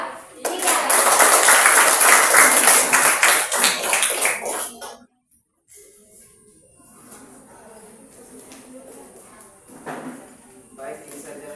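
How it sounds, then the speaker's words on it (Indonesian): Classroom applause for a student group, a dense burst of many hands clapping for about five seconds, then a silent gap and quieter room noise. "Kita tepuk tangan untuk kelompok"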